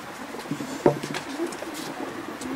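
Pigeons coo softly in low, throaty murmurs, a few calls overlapping against a quiet outdoor background.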